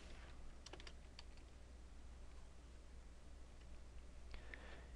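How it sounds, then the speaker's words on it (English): Keys clatter on a computer keyboard as an address is typed into a search field, with a short burst of quick taps, a pause, then a few more faint clicks over a steady low hum. "click inside the Addresses search field and type in the address that you want to search for"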